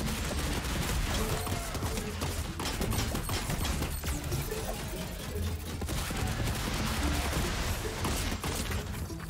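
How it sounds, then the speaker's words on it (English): Video game gunfire aimed at a llama: dense, rapid bursts of shots crackle almost continuously, with short lulls between volleys, fairly loud and unaccompanied by speech. "this guy is shooting at the llama"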